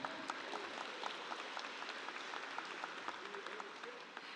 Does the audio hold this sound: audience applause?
yes